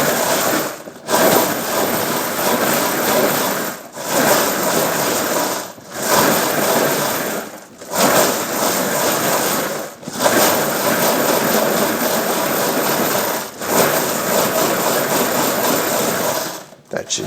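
A rotary tumbler spins brass cartridge cases with cleaning media, giving a steady, close churning rumble that stops briefly about every two seconds in a regular rhythm.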